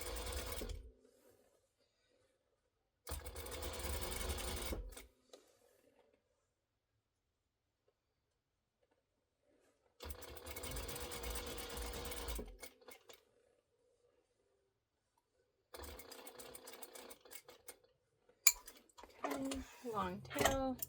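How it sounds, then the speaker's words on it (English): Home sewing machine stitching fabric for a Halloween fabric pumpkin craft, running in several bursts of about two seconds each with quiet gaps between, fairly close and steady. "I'm already at the machine sewing right here."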